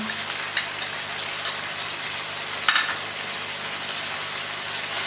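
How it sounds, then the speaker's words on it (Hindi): Ginger garlic paste frying for an Afghani chicken karahi, a steady close crackling sizzle with scattered pops and one sharper spatter burst midway, no voices. "अदरक लहसुन का पेस्ट हमने डाल दिया है, अब हम इसको तकरीबन 2 मिनट भूनेंगे"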